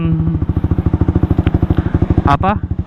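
A fuel-injected Honda CS1 250cc motorcycle idles high at about 1500-1800 rpm, a close, steady, rapid thumping throb with a brief louder blip near the end.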